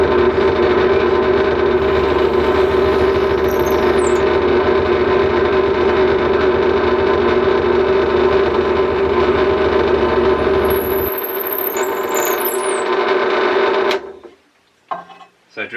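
A Harbor Freight Central Machinery 8-inch bench top drill press runs at higher RPM while drilling holes, a loud steady motor hum with a faint high squeal near the end before it spins down.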